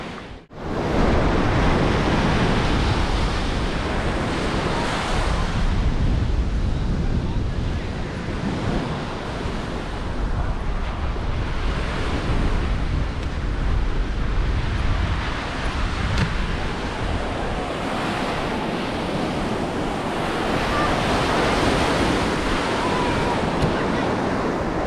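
Steady wind and breaking waves roll over a Lake Michigan beach at Warren Dunes State Park, a loud continuous roar with gusty buffeting against the microphone, with no voices throughout.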